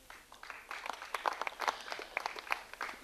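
A small audience at a jazz weekend concert gives brief, fairly faint scattered applause for a jazz quartet, with irregular individual claps rather than a full ovation.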